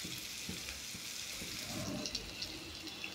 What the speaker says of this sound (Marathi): कांदा आणि टोमॅटो लालसर होईपर्यंत भाजून घ्यायचा आहे.